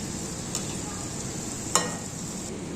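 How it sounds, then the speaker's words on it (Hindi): Crispy noodle balls fry in hot oil with a steady, close sizzle, broken by a couple of sharp clicks as they are gently stirred and turned. "लाइट ब्राउन कलर आने तक इसको फ्राई कर लेंगे"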